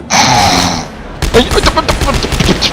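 Gunfire from a weapon in the Dead Space 3 video game: a burst of rapid close shots after a sustained tone, loud and punchy with several sharp reports.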